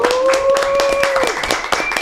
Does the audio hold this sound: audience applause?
yes